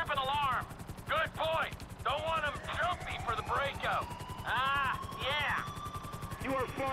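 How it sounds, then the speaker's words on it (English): A fast helicopter in Grand Theft Auto 5 gives a steady, rapid rotor thump running throughout, heard under someone talking in frequent bursts. "this is a nice fast chopper"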